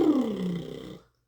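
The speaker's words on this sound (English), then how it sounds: "A lip buzz sounds like this." A singer's lip buzz used as a gentle vocal warm-up: a single buzzing, fluttering tone sliding downward in pitch for about a second, close and fairly loud, then stopping into silence.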